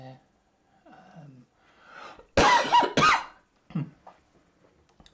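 A person with a lingering cold gives two loud, harsh coughs in quick succession, close by, after a few quieter throat and breathing noises, then a short wheezy sound trails off.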